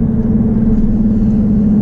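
Interior drone of a Nissan 370Z being driven, a steady low engine hum with constant road rumble, loud and unbroken with no voices.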